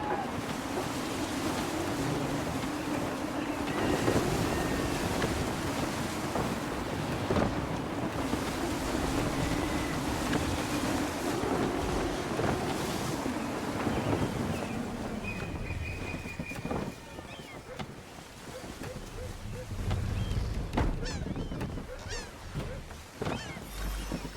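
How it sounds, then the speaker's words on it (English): Gusty wind roars steadily around a sailing ship at sea in Assassin's Creed 3, with waves washing against the hull and occasional creaks and knocks, no talking, loud and continuous throughout. "Gusty winds can be difficult to manage."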